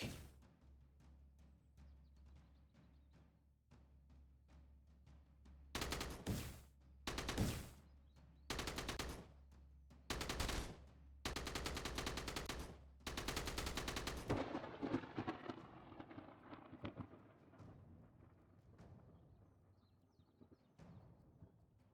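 Automated turrets in The Walking Trade unleash a string of loud, sharp gunfire bursts in rapid clusters, then the shooting tapers off into a fading, rumbling echo.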